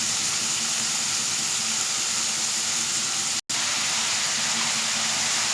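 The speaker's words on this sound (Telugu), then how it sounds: "ఆనియన్ ఫ్రై అవుతుంది కదా" Onion frying in a pan for gongura mutton curry, a constant loud hiss and sizzle that holds steady, broken only by a momentary cut near the end.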